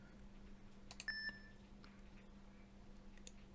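An electronic double beep sound effect for a keypad, two short high tones in quick succession, followed by quiet background hum with no speech.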